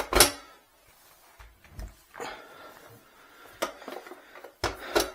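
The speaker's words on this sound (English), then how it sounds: "If the bolt is back, we can take the magazine out." The magazine comes out of a blank-firing Tommy gun reproduction with sharp metallic clacks and a sliding scrape, a few distinct clicks separated by short pauses, close and clear.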